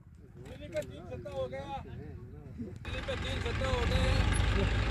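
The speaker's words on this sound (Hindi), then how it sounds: "ट्रैक्टर को आप देख रहे हैं कि डेजर्ट पे कैसे चल रहा है" A tractor drives across desert sand near Bikaner. Its engine rumble swells and stays loud through the second half, after someone talks over quieter background noise.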